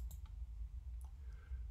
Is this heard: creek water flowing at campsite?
no